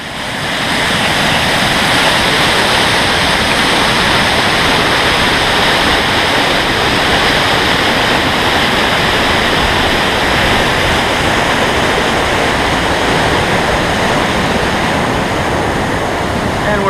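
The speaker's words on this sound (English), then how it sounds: "Look at that waterfall." A powerful waterfall on the Black Forest Trail thunders close by in a loud, unbroken roar of rushing water that fills the whole stretch without pause.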